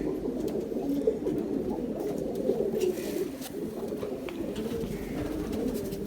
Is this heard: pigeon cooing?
yes